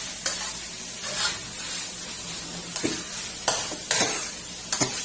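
Minced pork being stir-fried in a wok with oyster sauce, a steady close sizzle with repeated sharp scrapes and clatters of the spatula stirring at irregular intervals.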